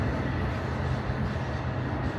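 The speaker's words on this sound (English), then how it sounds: "Train." A train rumbles past up close, a loud, steady roar of rolling wagons that fills the whole stretch with no break.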